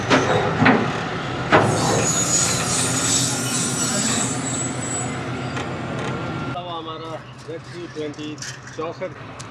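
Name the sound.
Allama Iqbal Express train arriving, wheels squealing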